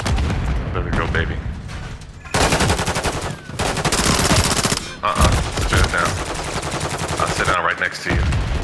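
Rapid automatic gunfire rattles loud and close in a first-person shooter match, coming in long sustained bursts with brief gaps, mixed with heavier booms, while a player talks over the shooting.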